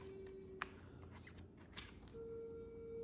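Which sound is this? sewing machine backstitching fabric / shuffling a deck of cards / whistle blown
shuffling a deck of cards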